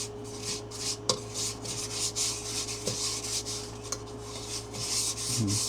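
Steady gritty rubbing of sanding paste by hand across a wooden bowl, soft and continuous with a few small knocks, no talking.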